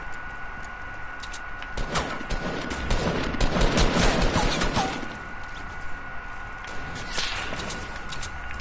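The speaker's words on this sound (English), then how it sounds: "Someone's shooting at me." Sharp video game gunfire cracks in quick bursts, swelling into a dense volley in the middle and thinning to scattered shots, all fairly loud and near over a steady background tone.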